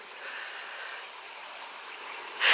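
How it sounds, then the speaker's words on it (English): A babbling brook flows through rural countryside near East Quantoxhead on the Quantock coast, a faint, steady watery hiss heard from a distance, ending in a brief louder rush of noise. "I can even hear water. There's a stream down through there. Look, the brook, the babbling brook."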